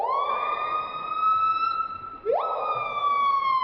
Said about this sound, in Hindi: नंबर 1 पीहा। इसकी आवाज को स्लो मोशन में करने पर ऐसा लगेगा जैसे कोई एम्बुलेंस या पुलिस की गाड़ी हो।